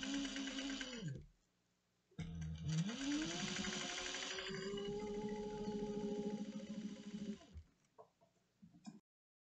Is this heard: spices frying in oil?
no